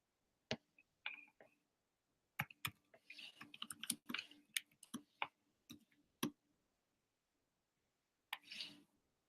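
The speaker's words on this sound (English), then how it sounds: "But I'll type it in here as well." Sparse computer keyboard typing, heard as quiet scattered key clicks in short bursts with gaps between, close and faint with no talking.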